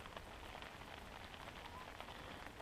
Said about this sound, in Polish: pada deszcz, jest brzydka pogoda.